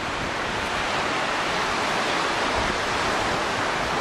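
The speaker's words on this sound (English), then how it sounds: "The waves are breaking here" Surf washes steadily onto a beach at Laem Mae Phim, Rayong, Thailand, at low tide, a broad continuous roar with no distinct individual breakers and no voices.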